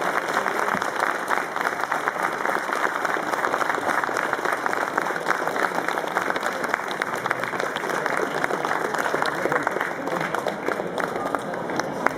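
Sustained applause from a crowd at a Q&A with David Prowse, an even wall of many hands clapping for about twelve seconds, with no talk on top.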